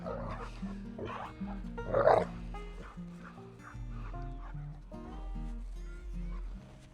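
Dog barking and whimpering in a backyard garden near cows, a few excited barks mixed with a person talking over them and a steady low hum.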